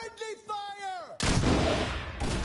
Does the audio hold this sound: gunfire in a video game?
yes